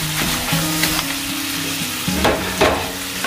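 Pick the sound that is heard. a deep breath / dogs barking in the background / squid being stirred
squid being stirred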